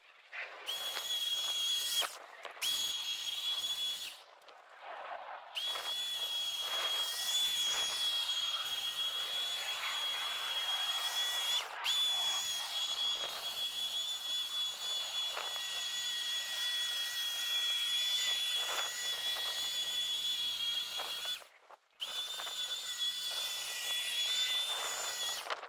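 Lawn scarifier raking moss out of a mossy lawn, a loud continuous mechanical whirring drone with a steady high whine, running for most of the stretch with a few brief drops and pauses.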